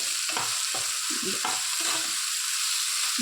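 Tomato with salt frying in a pan, a soft continuous sizzle with several spoon-stirring scrapes and knocks spaced through, fairly quiet and without speech.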